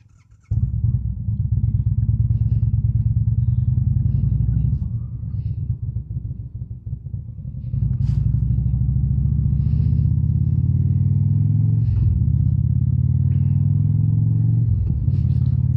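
An Indian Springfield motorcycle cruises along with a steady, loud low engine rumble, easing off briefly around the middle before pulling back up, with faint wind and road noise throughout.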